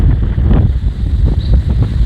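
Strong wind blows hard outdoors, roaring and buffeting the microphone in loud, continuous gusts with no pause.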